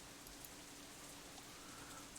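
Soft, steady rain ambience from the visual novel Katawa Shoujo, a faint continuous patter of drops on surfaces with no voices.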